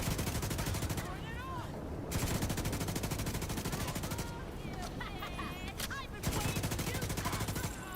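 A light machine gun in The Division 2 fires long, continuous, rapid automatic bursts, loud and close, with short pauses between strings and a steady roar of shots throughout.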